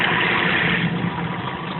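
A 15 horsepower outboard motor, converted with a new carburetor, idles with a loud, steady, close mechanical drone and no change in pace.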